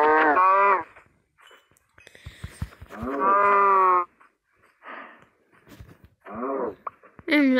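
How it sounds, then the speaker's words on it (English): Several long, loud cow moos from Minecraft livestock, each a harmonic bellow lasting about a second, with quieter clicks and short grunting sounds between them. "And I feel bad for the cows."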